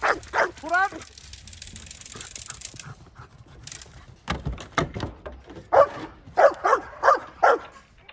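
Seven-month-old Belgian Malinois pups bark in short, sharp volleys during group protection training, mixed with yips and whines, near and loud, with a person speaking in between.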